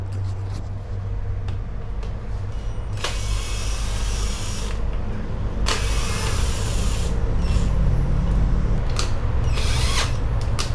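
A 72-volt electric hub motor on a wheel, driven by a G72130E controller, runs at full throttle in first gear. It gives a steady close mechanical whine and hum, broken by several sharp bursts of whirring or rattling.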